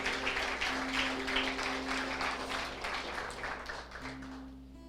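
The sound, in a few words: applause in church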